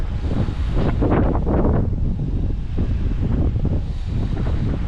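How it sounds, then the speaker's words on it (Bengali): Cold wind blows hard across an Atlantic island surrounded by sea, a loud continuous rumble buffeting the microphone with gusty surges and no voices. "খুবই ঠান্ডা অবশ্য, বাতাস হচ্ছে"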